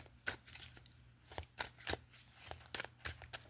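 A deck of playing cards is shuffled close by, giving a quiet run of riffling flutters and soft slaps in an uneven rhythm.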